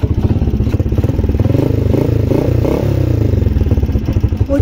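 A motorcycle exhaust with its internal baffles removed idles and revs loudly up close, its deep rapid thumping pulse swelling briefly in pitch mid-clip before settling back to a rough throaty idle, with no voices.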